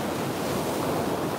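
Ocean surf of the Gulf of Mexico off the Naples area in Southwest Florida, a steady broadband wash of waves with some wind rumble on the microphone, continuous and moderately loud with no voices.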